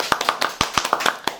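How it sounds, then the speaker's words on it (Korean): A few people clap in welcome for a guest in a small studio, about ten sharp, close handclaps in an uneven rhythm with no one speaking. "환영의 박수를 치도록 하겠습니다"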